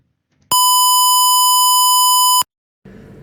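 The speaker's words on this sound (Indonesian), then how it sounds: "membunyikan buzzer dengan frekuensi 1000 Hz menggunakan fungsi tone" A smart helmet's buzzer sounds one steady 1000 Hz tone for about two seconds, pure and loud, with silence before it and a little faint noise after.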